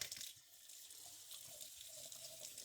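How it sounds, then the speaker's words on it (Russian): Water runs from a kitchen tap in an apartment's brick-built annex, a steady, fairly quiet hiss and splash that continues without a break, with nobody speaking. "Мы сейчас воду спустим, специально поставим."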